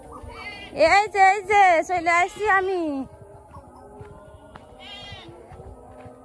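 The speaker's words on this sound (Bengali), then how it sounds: "তো দেখুন ছাগল কি ডাকা ডাকছে অন্ধকার হয়ে গেছে" Goats in a field at dusk give a loud, close run of wavering bleats, then a fainter bleat a couple of seconds later, with a person speaking nearby.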